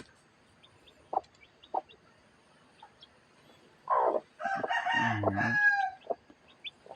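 Chickens, a rooster among them, clucking and calling in a backyard coop with lively young chicks, short separate clucks followed by a louder sustained burst of squawking close by, with no talk.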